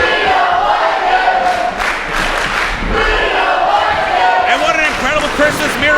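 A wrestling crowd jeers and shouts at Sonny Defarge at ETWA Season's Beatings 2022, a loud, dense roar of voices with scattered yells and a few thuds.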